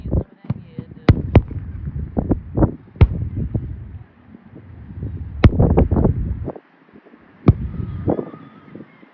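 Fireworks show played back through a small camera speaker, a run of sharp pops and bangs in irregular bursts, some clustered and some single, over a hissy background with people talking now and then.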